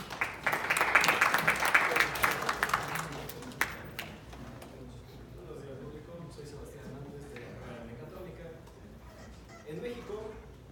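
Audience applause at a TEC Talk, a burst of clapping loudest in the first few seconds then fading out, followed by a speaker talking at low level.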